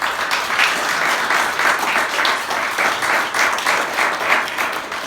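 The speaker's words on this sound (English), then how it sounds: "I would love to give an all-round good applause for them" Steady audience applause for a round of event speakers, dense clapping sustained through the whole stretch at an even, moderately loud level with no talking over it.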